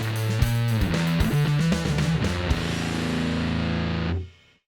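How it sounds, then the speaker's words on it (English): A heavily distorted, fuzzy electric guitar plays a chunky riff for about four seconds, then cuts off and rings out briefly into silence. "If you're using, say for example, a fuzz style effect, you're more likely to play something like this."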